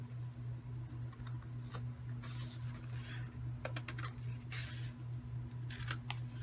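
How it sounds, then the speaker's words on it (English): Scissors snipping out tiny squares of paper for a Halloween treat box, a few sharp cuts spaced irregularly over a steady low hum, no talking. "You're going to cut out this tiny little square and this tiny little square."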